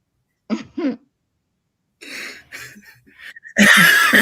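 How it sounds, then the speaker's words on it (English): Two short, sharp coughs close by, a pause, then a run of rougher coughing and spluttering that ends in a loud, harsh burst. "laughing makes me cough"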